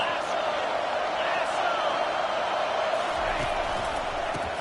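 Football stadium crowd roaring in a broad, steady wash of noise with cheers, and a commentator's voice talking over it throughout.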